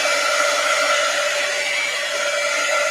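Dryer blowing on wet gold paint on an envelope, a loud, steady whooshing hum with a constant whine, close and unbroken for the whole stretch, no voices.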